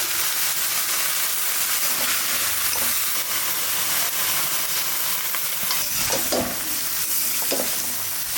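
Winter vegetables fry in a pan with a steady, close sizzle that runs unbroken. Occasional scraping stirs cut through the hiss.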